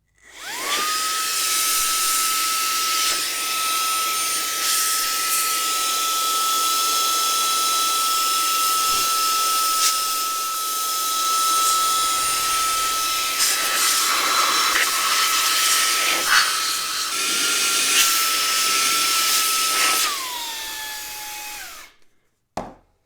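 A HOTO compressed air capsule blower runs at close range with a steady high-pitched electric whine, then spins down as it shuts off.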